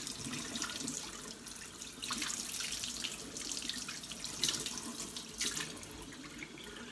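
Cold water running from a tap into a sink, a steady splashing stream with gurgles and small drips rising and falling, fairly quiet and close.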